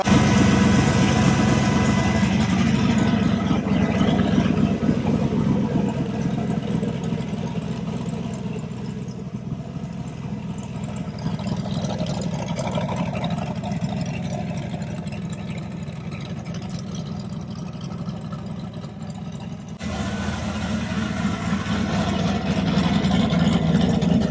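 A rebuilt turbocharged LS 6.0 V8 idles steadily in an S10 pickup, a continuous low engine rumble held close and loud for the whole stretch with no talk over it.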